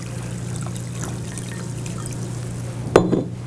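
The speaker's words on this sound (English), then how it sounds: "we have a bowl. We put water in there." Water trickles and pours softly into a bowl over a low steady hum in a kitchen, ending with a brief louder splash.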